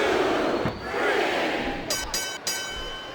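A roaring wrestling crowd in the video game WWE SmackDown vs. Raw 2007 cheers continuously during a pin count, with a few sharp bursts of noise cutting through near the end.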